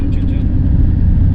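Inside a camper van rolling through a quiet seaside town in Sinop, Turkey, a loud, steady low engine and road rumble fills the short stretch.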